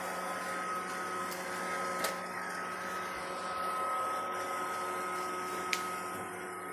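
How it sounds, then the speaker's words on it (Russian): A robot vacuum cleaner runs indoors with a steady, quiet motor whir and hum, broken by a couple of faint clicks or bumps. "Первый робот-пылесос."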